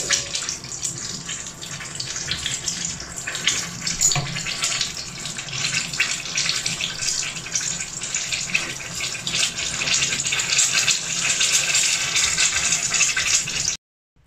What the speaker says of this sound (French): je trempe. Voilà, j'enlève l'excédent et je laisse cuire.